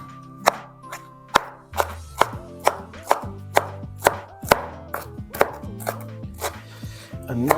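A knife chops cilantro on a chopping board in about fifteen steady, sharp strokes, each a crisp close thunk on the wood, with the rhythm pausing briefly as the board is turned.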